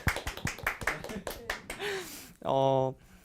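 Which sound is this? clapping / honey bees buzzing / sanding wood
clapping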